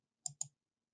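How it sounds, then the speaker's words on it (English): Two quick, crisp clicks of a computer mouse sound in close succession while someone works in a software interface on screen, close and quiet with silence around them. "Okay, clicking in the name column"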